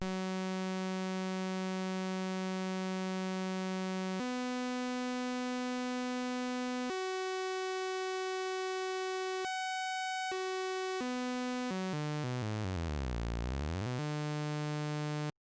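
A Pure Data sawtooth ramp oscillator run through a jitter-correcting abstraction plays alone, buzzing in bright harmonic steps that jump to new pitches every second or two, then sweeps down and back up near the end.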